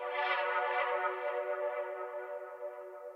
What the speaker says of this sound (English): That pad sound in the background is also made from the sample.